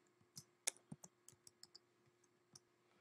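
Scattered keystrokes on a computer keyboard, a few quiet clicks in an irregular rhythm with gaps between them, close by and with no voices.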